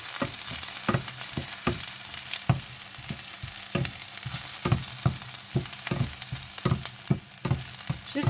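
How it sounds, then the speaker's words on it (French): Garlic and shallot fry in a pan with a steady hiss of hot oil, broken by regular scraping knocks as a utensil stirs them. "il ne faut pas laisser trop griller de l'ail"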